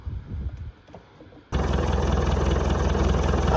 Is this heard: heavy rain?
no